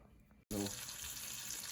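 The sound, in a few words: butter sizzling in frying pan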